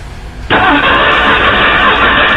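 An engine cranks on its starter during a cylinder compression test on cylinder number 4, a loud, steady whirring drone that kicks in abruptly after a brief quiet moment and runs on unbroken.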